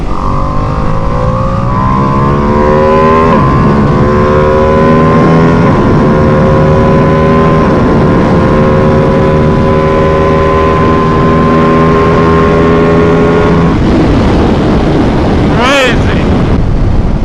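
A Ducati Panigale V2S motorcycle accelerates hard at full throttle, its loud, close engine note climbing steadily through the gears under heavy wind rush, with a voice breaking in near the end.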